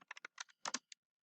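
Quick, light keystrokes tap on a computer keyboard in a short irregular burst of about a dozen clicks. The typing is close, quiet and clean against silence, and it stops abruptly.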